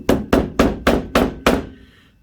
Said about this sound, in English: Let me just get Magic Hammer.